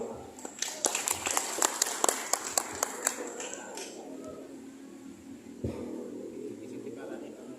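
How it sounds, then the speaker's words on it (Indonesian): A short burst of hand clapping, about a dozen sharp claps from a small group over a few seconds, then fading into room murmur. "Tepuk tangan dulu"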